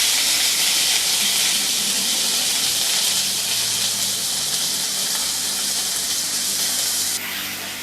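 Ginger garlic paste, about a teaspoon, sizzling in a hot pan while cooking onion paratha: a steady, loud broadband hiss that continues unbroken throughout, easing slightly near the end.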